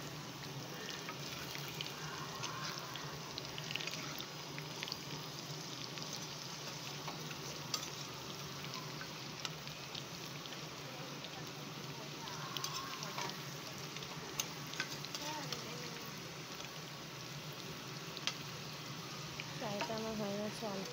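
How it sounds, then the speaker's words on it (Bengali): Potatoes frying in a pan, a continuous soft sizzle with occasional clicks and crackles, fairly quiet and steady throughout. "আলুগুলো হালকা হালকা ফ্রাই হয়ে গেছে"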